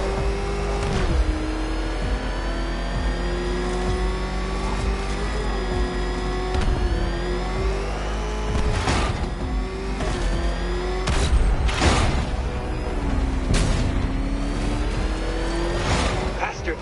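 The Batmobile's engine in Batman: Arkham Knight drones and revs steadily with rising and falling pitch, mixed with thuds and booms, while voices talk over it throughout.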